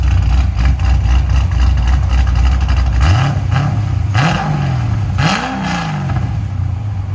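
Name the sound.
cammed Chevy Corvette Z06 7.0L V8 revving with headers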